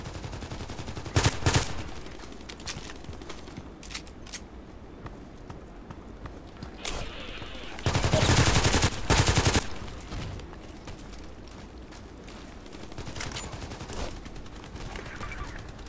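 Gunfire in the online shooter Contract Wars: scattered single shots and two loud rapid bursts, with quieter ambient game noise between them.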